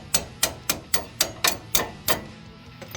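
A hammer gently tapping a front suspension bolt out of a Toyota Tundra: eight evenly spaced metallic taps, close and moderately loud, then a short pause and a faint final knock.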